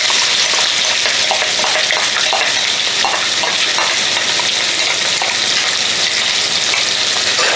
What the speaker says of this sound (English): the oil is heated up, as you can see. Now this is just 1 medium onion.